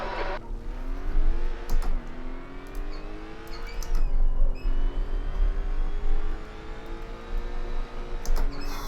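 A race car in the Assetto Corsa sim, locking its front wheels while braking for the corkscrew, revs hard and downshifts, the engine note rising and dropping repeatedly over a continuous loud drone with a few sharp clicks.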